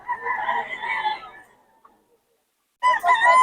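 A stag rooster crows loudly and close by, one long harmonic call that fades out, then a short silence before a second crow begins.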